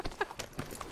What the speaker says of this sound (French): Doucement avec les chevaux.